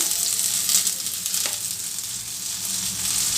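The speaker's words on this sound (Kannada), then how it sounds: "ಈಗ ನೆಕ್ಸ್ಟು ಇದನ್ನು ಫ್ರೈ ಮಾಡ್ಕೊಳ್ಳೋಣ ಈಗ ಎಣ್ಣೆ ಕಾದಿದೆ ಈರುಳ್ಳಿ ಬೆಳ್ಳುಳ್ಳಿ" Onion, garlic and ginger fry in hot oil for a paneer masala, giving a steady, close sizzle with a bright crackling hiss throughout and one sharp spatter in the middle.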